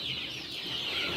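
Native village chickens on a Sentul farm make a dense, continuous chorus of high clucking and chattering calls that sound fairly close. There is no speech.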